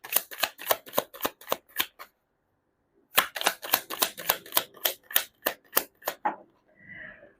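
Tarot cards shuffled by hand in two quick bursts of crisp, rapid riffling snaps, with a short pause between them, close and clear with no talk.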